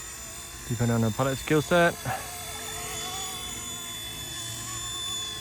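A small RC Era C189 MD500 remote-control helicopter flies on a windy maiden flight, its thin electric whine running steadily beneath a voice that talks over it.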